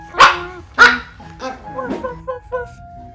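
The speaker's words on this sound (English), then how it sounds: "What do the little doggies sound like?" Small dogs bark close by: two sharp barks, then a quicker run of lighter yips and yaps.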